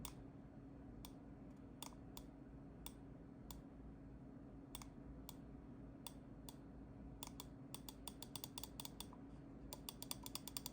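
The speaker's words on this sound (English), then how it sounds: "Right click, same deal, very minimal pre-travel, nice click, a little bit of post-travel, but no grinding." Sharp, distinct clicks of the buttons on a Pulsar Susanto X mouse, spaced singly at first, then coming in quicker bursts near the end, each one crisp over a low steady background hum.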